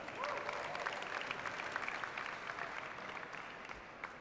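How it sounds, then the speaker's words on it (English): Audience applause at a Creative Commons launch event in Qatar, a steady, even clapping from a crowd, somewhat distant and soft, lasting about four seconds with a faint voice beneath it. "give them a big round of applause"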